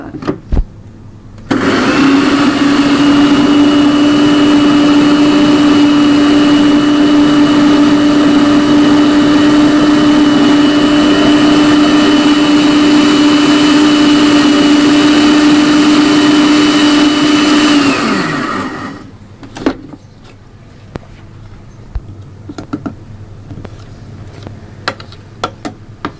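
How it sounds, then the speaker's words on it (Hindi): An electric grinder whirs steadily for about sixteen seconds while grinding paste for dahi baray, a loud, even motor whine. It then winds down and stops, leaving a few faint clicks and knocks. "अभी थोड़ा दाना नज़र आ रहा है इसका, तो मैं थोड़ा सा और पीस लूँगी इसे।"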